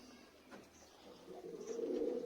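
Pigeons coo softly at a coop, a few low rolling calls close by with a faint rustle, rising slightly toward the end.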